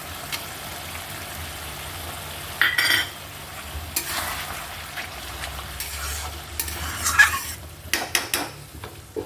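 Water poured into a hot frying pan of Bengali fish curry with cashews and raisins, bursts of hissing sizzle and scraping stirring with utensil clinks over a steady low kitchen background.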